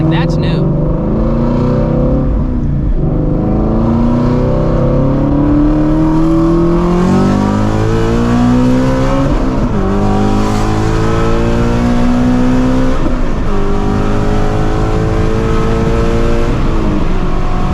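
A straight-piped Shelby GT350 pulling hard through the gears, loud, raspy exhaust climbing in pitch with brief dips at each shift, close and continuous for the whole stretch.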